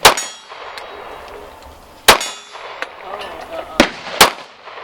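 Gunshots ring out against steel targets at an outdoor shooting range, about four sharp metallic clangs spaced irregularly, each with a brief ringing decay over quiet background.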